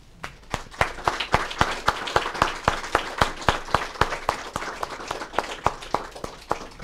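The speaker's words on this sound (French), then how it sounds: "je pense que ça vaut une chaude main d'applaudissements" Slow, rhythmic applause at a funeral ceremony for a 93-year-old woman, with sharp, evenly spaced claps that sound like a modest group clapping steadily in a hall.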